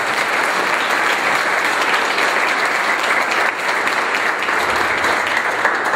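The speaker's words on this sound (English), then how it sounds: "Let's give her one more round of applause." A press conference audience bursts into sustained applause, a thick, even wash of many hands clapping close by for the whole six seconds, with little variation and no voices standing out.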